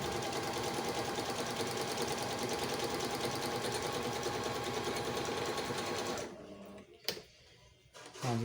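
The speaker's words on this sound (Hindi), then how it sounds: "कपड़े के अंदर लगा के टांके बनाएं।" A Singer 5200 sewing machine stitches fabric in a steady, fast, close mechanical whir for about six seconds, then stops, leaving a few clicks and handling noises.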